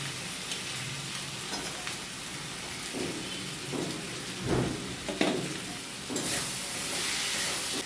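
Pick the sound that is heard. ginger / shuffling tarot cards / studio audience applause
ginger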